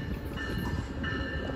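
Capitol Corridor passenger train arriving at Santa Clara station, a steady near rumble with a sustained whining tone, heard on its own without talk.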